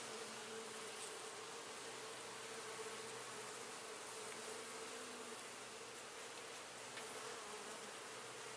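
Honey bees hum in a dense, continuous buzz during a hive inspection, a steady even drone at close range with no break.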